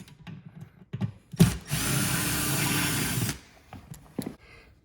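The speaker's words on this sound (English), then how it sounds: "So we have our handy Dremel multi-tool, and I've used this blade a few times, so it's kind of dull, but it's a drywall blade." A Dremel oscillating multi-tool fitted with a dull drywall blade cuts into a drywall wall in one steady, loud buzzing burst of about two seconds. Scattered clicks and handling knocks come before and after it.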